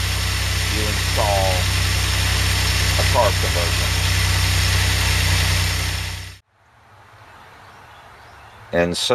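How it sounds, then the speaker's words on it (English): DeLorean engine running at fast idle after a carburetor conversion, an automatic with a Peugeot manifold, a steady close drone for about six seconds before cutting off, someone briefly speaking. "That's fast idle."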